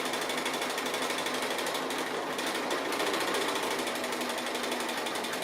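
A sewing machine free-motion stitching the edges of a fabric house tablerunner, a steady, dense mechanical whir running continuously at close range with no pauses.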